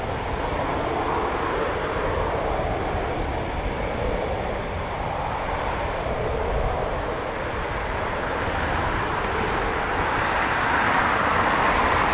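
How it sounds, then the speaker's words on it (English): A Eurofighter Typhoon FGR4 jet taxis at an RAF base, its engines producing a loud, steady roar and rumble that holds for the whole stretch and swells slightly toward the end, with no talk. "There's another one taxiing as well."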